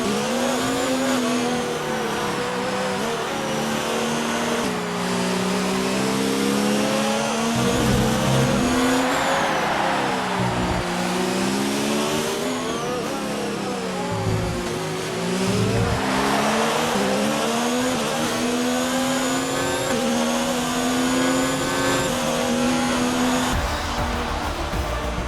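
Formula 1 race car engine in the F1 2019 video game at the Spanish Grand Prix, a loud continuous high-revving whine rising and falling through gear changes, with tire noise throughout.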